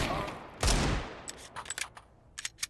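Pistol fire in a Counter-Strike match: a sharp shot that dies away, then a scatter of quieter clicks and distant pops trailing off.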